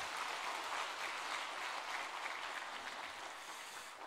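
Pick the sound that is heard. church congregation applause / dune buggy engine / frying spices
church congregation applause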